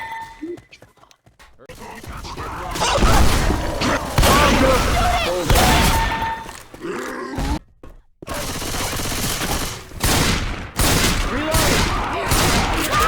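Shotgun shooting skeets, loud booming blasts and rolling volleys that repeat through the stretch, with brief silent gaps between them and people's voices mixed in.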